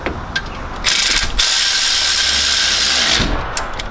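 A ratchet runs a 10mm nut onto the positive terminal of a Toyota Hilux alternator: a few short clicks, then a loud, continuous, rapid buzz of spinning ratcheting for about two seconds, close up and without speech.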